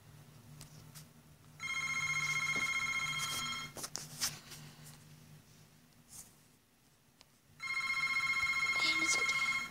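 A telephone rings in the background in two long bursts with a gap between them, and some clicks and small sounds of activity come through between the rings.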